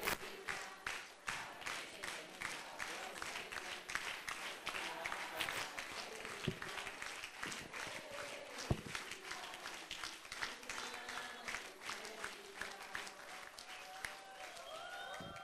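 Loud crowd applause and clapping at a 50th birthday party, steady and dense throughout, with cheering voices and talk mixed in.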